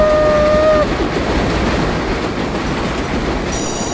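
An express subway train in the game World of Subways 4 runs along the track with a loud, steady rolling rumble and clatter, a brief tonal whine at the start and a faint chime near the end.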